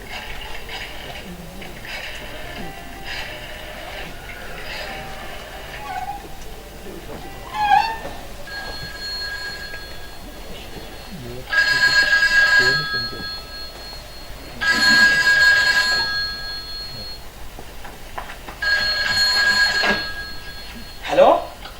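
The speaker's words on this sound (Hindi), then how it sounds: "मुझे कुछ ऐसा लगा जैसे फोन की घंटी बज रही है।" An old-style telephone bell rings in repeated bursts during a live stage play at a national theatre festival, its loud rings separated by pauses, with actors speaking around them.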